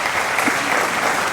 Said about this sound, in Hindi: आप सब ताली जरूर बजाएं।